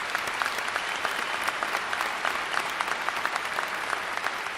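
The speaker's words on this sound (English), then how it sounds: "I just want to give one more big round of applause for all the graduates and for their family members" A large crowd at a college commencement applauds graduates and their families, a dense, continuous wash of clapping with scattered sharper claps standing out, steady throughout.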